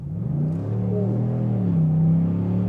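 A RAM 2500 diesel pickup truck with an 8-speed gearbox under full throttle, its engine note climbing in a loud steady rising drone with gear changes, heard from inside the cab.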